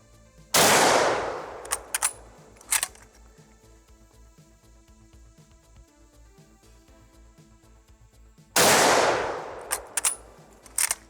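Two loud, close .30-06 battle rifle shots ring out roughly eight seconds apart, each a sharp blast with a short echoing tail and some clinking handling noise in between.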